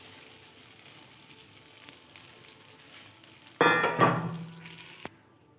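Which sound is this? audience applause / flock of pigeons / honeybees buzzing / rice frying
rice frying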